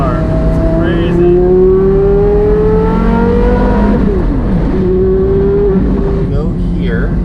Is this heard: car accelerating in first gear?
yes